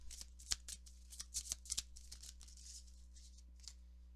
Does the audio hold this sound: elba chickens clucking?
no